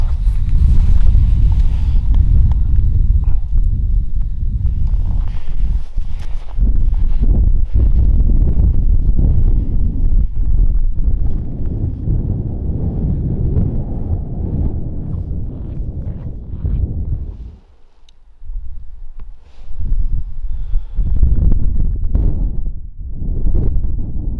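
Strong, steady, cold wind buffeting the microphone outdoors in the North Dakota Badlands during a late-season hunt, a low continuous roar that briefly drops away before gusting back in.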